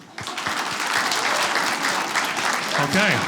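A comedy show audience breaks into loud, continuous applause that swells and holds, with a few voices and cheers mixed in near the end.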